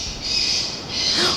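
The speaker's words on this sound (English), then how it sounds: "The birds of prey sounds being pumped out of these speakers" Harsh, high-pitched recorded bird-of-prey screeches played through Bird X loudspeakers, repeating in two drawn-out waves with a steady hiss beneath.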